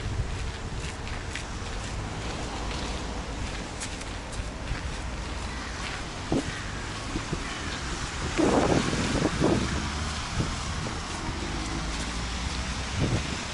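Steady wind rushing and buffeting across an open microphone outdoors in Karelia, with a few brief knocks and rustles partway through.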